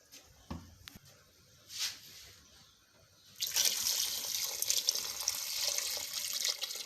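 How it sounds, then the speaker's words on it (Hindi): Water poured into a pot of frying goat trotters (paye), starting with a few faint clinks and splashes, then a steady loud rushing pour that continues to the end. "अब हम इसमें पानी डाल देंगे।"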